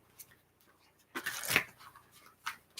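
A deck of tarot cards is shuffled close by in a few quick riffling bursts, the loudest in the middle, with quiet pauses between.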